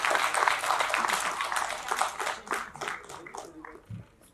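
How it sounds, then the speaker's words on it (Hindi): Applause at a film award ceremony, with a crowd of hands clapping steadily and fairly loud before thinning out into scattered claps, along with faint voices. "मुझे किसी की तालियां सुनाई दे रही है."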